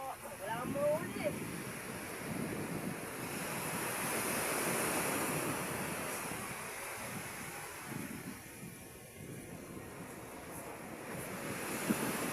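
Surf rolls steadily onto a beach, a broad continuous wash with gusts of wind buffeting the microphone, while people talk faintly nearby.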